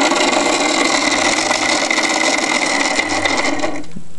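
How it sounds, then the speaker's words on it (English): An electric motor hums steadily while driving the dump mechanism of a wooden Sweeney Todd barber chair built as a stage prop for a musical, a close, continuous whirring that cuts off right at the end. "when you get your motor switched on,"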